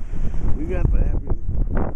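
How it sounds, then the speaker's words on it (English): Heavy blizzard wind roars steadily into the microphone, a loud, continuous buffeting rumble, with a voice briefly exclaiming over it. "We got the heavy wind here."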